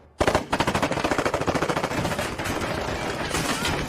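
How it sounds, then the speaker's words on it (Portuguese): Rapid bursts of automatic gunfire rattle continuously at close range, a dense stream of loud shots with no pause. "Na entrada da prefeitura, o Alfred vê o Batman em ação a usar a sua capa para se proteger dos tiros da gangue animal."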